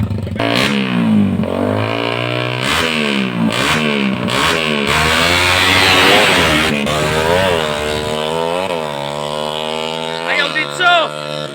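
A Raider 150 motorcycle engine revs hard at a drag race, loud and close, its pitch rising and falling through repeated throttle blips with sharp pops and crowd noise mixed in.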